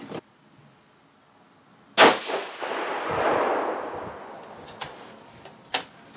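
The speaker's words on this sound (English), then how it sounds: "I think we're going to go ahead and shoot this last load here." A single loud 6.5 Creedmoor rifle shot firing a 140 grain ELD-M load with H4350 powder cracks sharply outdoors. A long rumbling decay follows, and later there are a couple of fainter metallic clicks.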